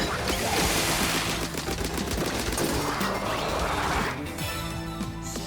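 The Splashdown special in Splatoon 3's Side Order erupts as a loud, dense burst of rapid-fire blasts and crashing impacts over game music, cutting off abruptly near the end.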